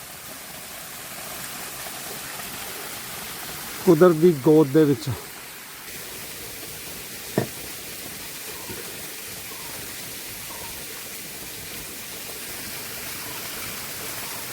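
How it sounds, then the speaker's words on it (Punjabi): A small waterfall in a Sri Lankan forest gives a steady, soft rushing wash throughout, with a brief spoken phrase and a single click partway through. "ਲਓ ਜੀ ਇਹ ਵੀ ਇੱਕ ਛੋਟਾ ਜਿਹਾ ਝਰਨਾ ਦੇਖ ਸਕਦੇ ਹੋ ਤੁਸੀਂ"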